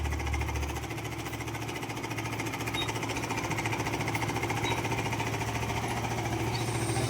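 Honda RS 150 motorcycle engine idling with a fast, rattling knock from a faulty tensioner, steady and close throughout with no talk over it.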